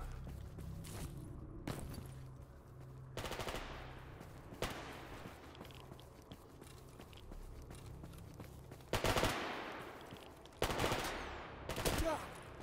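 Enemy gunfire in the video game S.T.A.L.K.E.R. GAMMA: short, sharp bursts of shots spaced irregularly across the scene, some louder and closer, others softer and farther off, over a low rumbling ambience.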